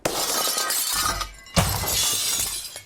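A baseball bat smashes an unprotected glass window, two loud shattering crashes about half a second apart, each followed by tinkling, scattering shards.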